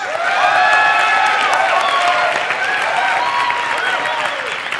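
An audience cheers and claps for a contestant in a divided crowd vote, with loud overlapping whoops and whistles riding over steady applause.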